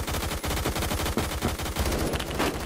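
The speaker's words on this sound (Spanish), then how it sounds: "Y él disparando para el frente y me mata." Rapid automatic gunfire in the online shooter Phantom Forces rattles in dense, loud bursts with barely any pause across the short stretch.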